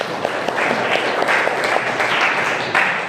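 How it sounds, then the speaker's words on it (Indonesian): Students in a classroom clap for a classmate who answered a question, a close, loud burst of many hands with distinct individual claps standing out, continuing evenly for a few seconds. "tepuk tangan untuk Ica"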